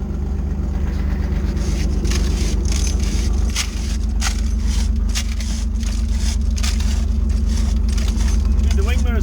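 Idling engine of a 1992 Nissan Pathfinder built as a demolition racer, a steady low rumble running throughout under scattered clanks and scrapes, with people talking nearby.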